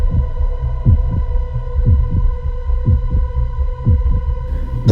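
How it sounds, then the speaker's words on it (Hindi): Steady heartbeat sound effect for a Hindi horror story, with rhythmic double thumps roughly once a second, loud and close over a constant low hum and eerie sustained drone tones. "उनकी धड़कनें अब बढ़ने लगी थी।"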